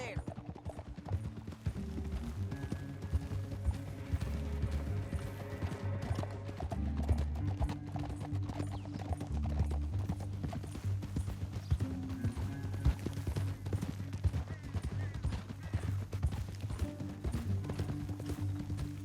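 Horse hooves gallop in a steady, rapid clip-clop through a canyon ride in the video game Red Dead Redemption 2, continuous and mid-distance under a low music bed.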